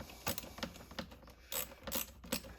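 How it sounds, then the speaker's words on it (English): A 9/32 wrench tightening the carburetor on a chainsaw with a stuck needle, giving a rapid series of close metallic ratcheting clicks in short bursts, with no talk. "Tighten the carburetor back up."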